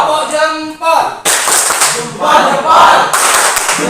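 A classroom of students performs a rhythmic thumbs clap in bursts of sharp, fairly loud claps, with voices chanting along between them.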